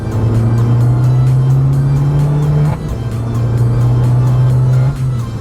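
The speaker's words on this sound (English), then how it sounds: "It seems to hesitate loads on the upshifts, doesn't it?" An Abarth Tributo Ferrari with a TD04 turbo, tuned to 245 bhp, drives loud and close, its engine holding a steady drone that briefly dips and hesitates on a gearbox upshift before pulling again.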